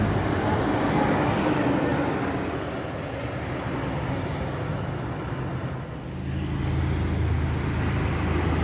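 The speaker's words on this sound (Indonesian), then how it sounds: "Itu kayaknya ada bus Tenteram guys, Malang Surabaya via tol Karanglo." A bus on the Malang–Surabaya route via the Karanglo toll road rumbles past amid steady roadside traffic, a loud, continuous low engine drone that dips briefly and swells again.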